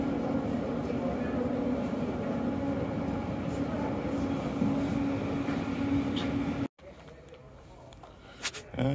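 A Mount Rigi mountain train in Switzerland gives a steady low rumble with faint voices in the background, then cuts off abruptly near the end before some light clatter.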